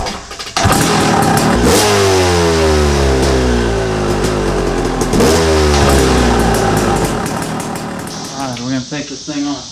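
A KTM motorcycle engine revs hard through several rising sweeps, each climb dropping back before the next, loud and close for most of the stretch before settling toward idle at the end.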